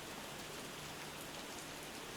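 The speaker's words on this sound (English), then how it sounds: "We can watch the raindrops fall and touch the ground." Steady rainfall patters evenly on a surface, a soft continuous hiss with faint drops and no voices over it.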